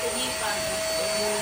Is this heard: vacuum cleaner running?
yes